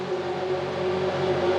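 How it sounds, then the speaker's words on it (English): Formula V8 3.5 race car engines idle after firing up on the grid at the Hungaroring, a steady loud droning hum with no talking. "So engines are fired up."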